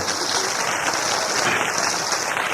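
A crowd at a live kavi sammelan (poetry gathering) in Indore applauds steadily, a dense wash of clapping that holds at an even level throughout without any voices breaking through.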